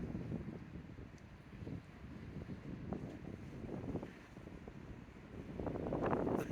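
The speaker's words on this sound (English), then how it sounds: "It is windy." Steady wind buffeting a microphone outdoors at Bicentennial Mall in Nashville, a low rumbling roar that swells louder near the end, with no voices.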